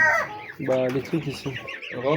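Chickens on a poultry farm give a few short, close clucks and squawks, with a person speaking over them.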